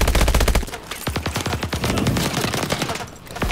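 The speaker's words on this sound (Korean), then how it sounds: "총알 날라오는 실감 봐" Rapid bursts of gunfire with bullets whizzing past in Call of Duty: Advanced Warfare, a dense run of sharp automatic shots that keeps firing loud and close for the whole stretch with only brief gaps.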